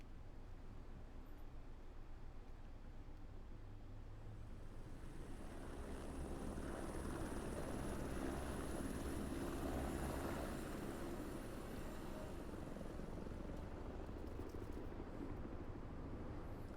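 A helicopter in the video game Hitman drones with a steady, broad rotor and engine roar, holding at a constant loud level throughout, with no voices over it.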